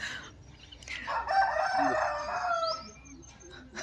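A rooster crows once in the morning, a single clear call of about two seconds rising and then trailing off at moderate volume, with faint background noise around it.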